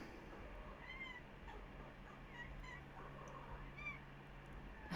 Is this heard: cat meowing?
yes